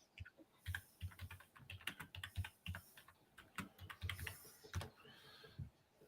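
Steady computer keyboard typing up close, with rapid, uneven runs of crisp key clicks and thumps over about six seconds and no voices.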